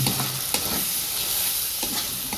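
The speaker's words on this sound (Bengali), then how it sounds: "এবার দেবো গোটা লঙ্কায়, দেখো আবার মশলাটাকে কষিয়ে নেবো।" Spice paste with turmeric and whole chilies being stir-fried in a pan for a cabbage vegetarian curry: a loud close sizzle with a few sharp spatula scrapes, no talk.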